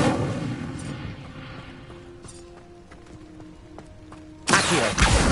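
A fire spell cast in Hogwarts Legacy bursts out near the end as a loud, broad whoosh of flame, after a stretch of quieter game sounds with soft tonal chimes and low rumble.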